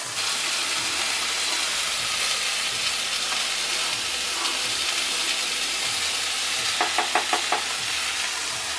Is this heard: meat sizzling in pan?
yes